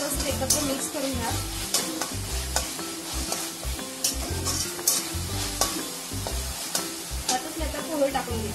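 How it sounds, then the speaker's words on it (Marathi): Sautéed vegetables being stirred with salt in a pan for Chinese-style pohe, a rhythmic scrape of a spatula repeating every second or so over a steady close sizzle. "तर त्यात आता चवीनुसार आपण मीठ टाकून घ्यायचं आहे. एकत्र मिक्स करून घ्या."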